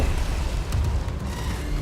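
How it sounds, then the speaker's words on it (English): A frag grenade blast in the video game Starfield, a loud, dense low-end boom that fills the moment and rolls on as sustained rumble without a clear decay. "I thought I had frag grenades."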